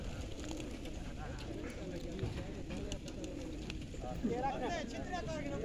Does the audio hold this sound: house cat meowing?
no